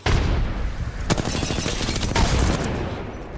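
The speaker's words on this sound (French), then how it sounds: "Grenade fragmentée" In Apex Legends, a frag grenade explosion and bursts of gunfire erupt loudly and close, with rapid repeated shots and booming blasts packed densely across the few seconds.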